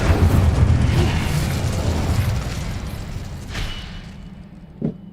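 A roaring burst of flame from the Incendio fire spell in Hogwarts Legacy, loud and broad at first, then fading over several seconds, with a small thump near the end and no voices.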